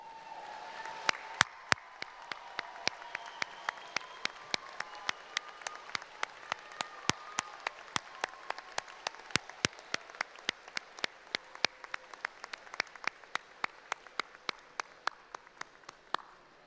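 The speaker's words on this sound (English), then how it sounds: "the graduates may show their appreciation with a round of applause" A graduation ceremony audience claps steadily for about sixteen seconds, a dense, even patter of many hands with sharper individual claps standing out near the listener and no voices over it.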